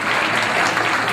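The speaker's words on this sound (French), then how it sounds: "Applaudissements pour toutes nos candidates." An audience at a Miss and Madame France pageant evening breaks into dense, loud applause for the candidates, a steady wash of clapping with no pauses.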